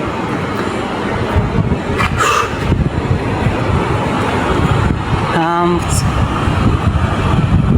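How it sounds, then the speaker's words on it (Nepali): Strong wind roars and buffets the microphone continuously, with a brief faint voice-like tone partway through. "हावा त बल चल्दैछ यहाँनिर"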